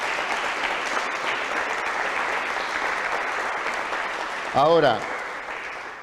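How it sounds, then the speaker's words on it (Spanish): A church congregation applauds in a steady, dense wash of clapping that holds evenly throughout, with a brief voice speaking over it near the end. "Dale otro aplauso a Cristo entonces."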